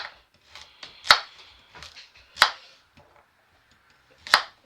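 Carrots cut into rounds with a knife on a cutting board, making several sharp, separate chops with gaps between them. The chops sound close and clear against a quiet background.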